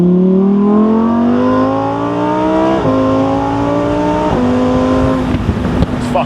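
A naturally aspirated 5.2-litre V10 Lamborghini supercar engine winds up loud and close through several rising gear pulls, each ending in a sharp shift drop, ending with crackles.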